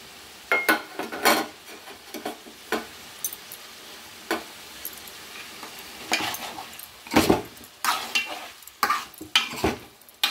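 Chicken and onions fry in a pan with ginger-garlic paste for a radish chicken curry, a soft steady sizzle broken by repeated sharp scrapes and clinks of a spoon stirring against the pan.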